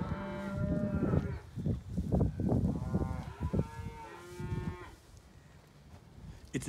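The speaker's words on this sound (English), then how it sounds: "These are really good cattle, guys." Brahman heifers, a group of sixteen cattle, low several times in a row, the calls loud and close with harmonic bellows overlapping, then thinning out as the herd quiets.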